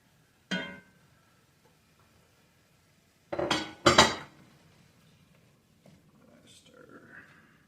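Chopped turkey pepperoni and onion go into a metal cooking pot for a pasta bolognese sauce, giving a clanking scrape followed by two louder clattering bursts, then faint stirring sounds and a soft voice near the end.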